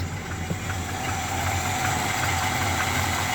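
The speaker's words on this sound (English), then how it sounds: "Love the sound of these exhausts on this thing" G-body car exhaust with turbo mufflers running straight back from shorty headers, a loud close low rumble with a slightly rough, pulsing idle that swells a little toward the end.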